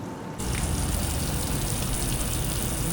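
Water sprays steadily onto a Toyota Camry during a sunroof leak test, a close, continuous hiss and gush that starts abruptly and runs on unbroken.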